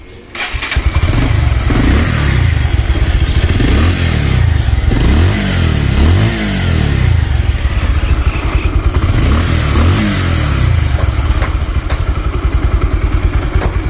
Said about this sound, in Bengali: দেখাবো আপনাদেরকে বাইকটির সাউন্ড কন্ডিশন